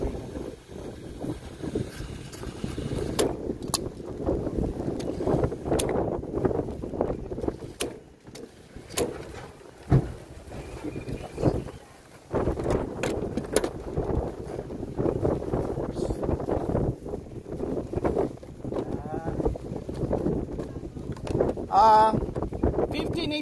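Wind blusters across an outdoor winter scene, gusty and rumbling, rising and falling over about twenty seconds, with faint bumps and clatter mixed in.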